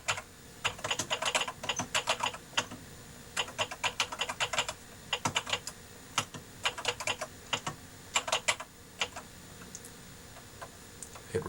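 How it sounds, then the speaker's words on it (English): Fast bursts of key presses on a computer keyboard as a thank-you message is typed to a bulletin board sysop, clicking in quick clusters separated by short pauses, close and clear with no talking. "So I'm just going to type"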